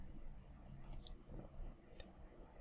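Computer mouse clicks while working in the Blender interface: a few sharp, quiet clicks spaced apart over low room noise, with no talking.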